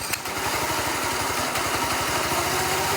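A monster truck go-kart's small engine runs close and loud, its rapid, steady chugging beat carrying on through the clip with no talk.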